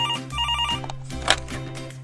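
A telephone rings in a short burst before being picked up, the bell tone close and clear over a background music bed.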